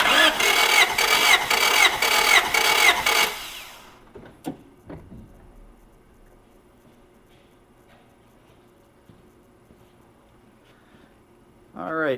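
A car engine cranks with a rapid, steady rhythmic chug for about three and a half seconds during a cylinder compression test, loud and close, then stops, leaving faint clicks and quiet handling noises.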